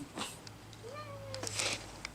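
A house cat gives a single faint, drawn-out meow at mid-distance over a noisy indoor background, with scattered clicks and rustles around it.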